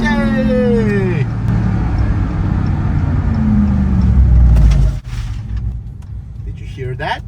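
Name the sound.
Dodge Ram TRX at full throttle, tires struggling for grip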